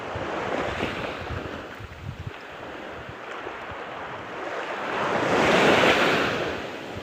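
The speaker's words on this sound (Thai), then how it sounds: "คลื่นคลื่นลมขนาดนี้ครับ" Strong sea waves surge and wash along the coast under gusting wind buffeting the microphone, a continuous loud roar that swells near the end.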